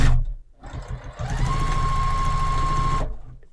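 A sewing machine stitches binding onto a Christmas table runner, a short close burst of rapid mechanical whirring and needle clatter with a steady motor hum, starting after a brief pause and stopping abruptly after about two seconds.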